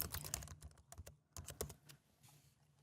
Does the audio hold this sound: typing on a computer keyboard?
yes